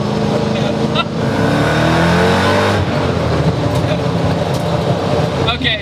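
A supercharged 1UZ-swapped Toyota Celica roars loudly at highway speed, a steady dense engine and road drone from inside the cabin with a brief lull and swell; a voice talks faintly underneath.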